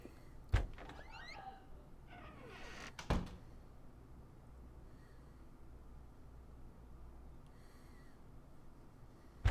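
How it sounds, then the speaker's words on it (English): A door in the video game Unheard thuds shut, preceded by a sharper knock-like hit and rattling, then a long quiet stretch of low room ambience with a final faint thump. "And close the door"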